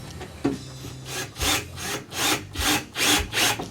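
Screw being turned by hand into the holes of a cutting table frame, a close, quiet run of rhythmic scraping and rubbing strokes repeating roughly every half second.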